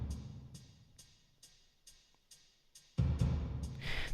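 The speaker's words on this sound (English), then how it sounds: "Then we have a spring reverb." Drum hits sent through a spring reverb set fully wet in a pop mix, faint and washy, with a steady pulse of splashy hits that swells into a louder, fuller section near the end.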